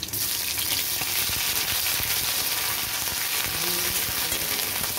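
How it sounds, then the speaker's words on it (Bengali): Ginger paste fries in mustard oil, giving a loud, continuous sputtering sizzle close by, broken by light stirring clicks, with no voices. "এবার দিয়ে দিচ্ছি আদা বাটা"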